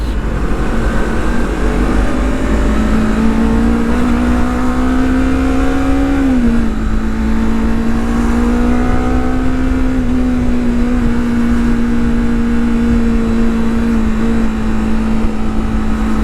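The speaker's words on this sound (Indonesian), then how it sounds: "Sekarang kita lihat performance di RPM atas." A car engine, tested on ester-based oil, is held at high revs near 6000 RPM, giving a loud, sustained whine that wavers slightly in pitch, close and steady with no talking.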